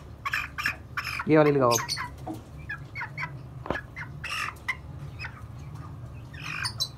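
A young chick chirps and squawks in short, shrill bursts up close, interspersed with quick peeps, while a person talks nearby.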